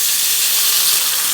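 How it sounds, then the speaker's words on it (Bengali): Water hits hot fried potatoes in a pan, giving a loud, steady hissing sizzle of steam that stays even and continuous without a break. "এগুলো কিন্তু আমি জল দিয়ে দিচ্ছি"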